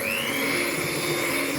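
An electric mixer beats icing sugar with margarine into cake frosting, a steady, fairly faint motor whine with a high hum that holds evenly throughout and no voices.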